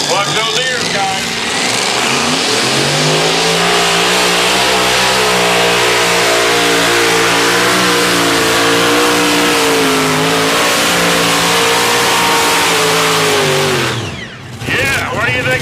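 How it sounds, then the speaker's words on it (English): A multi-engine modified tractor roars at full throttle during a tractor pull at a county fair, a loud sustained rising engine howl that holds for about fourteen seconds before cutting off abruptly. "Multi-engine modified tractor puller."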